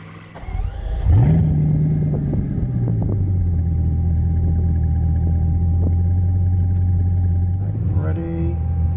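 A Bugatti Chiron hypercar roars up from a low rumble, then holds a loud, steady high-speed drone for several seconds before a brief shift in tone near the end.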